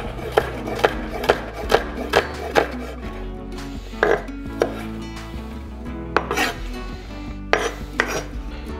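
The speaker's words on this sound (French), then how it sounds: "Alors on va commencer par ciseler un petit oignon" A knife chops a small onion finely on a board for chili con carne, giving a loud, close series of about fifteen sharp, irregularly spaced strikes with brief pauses.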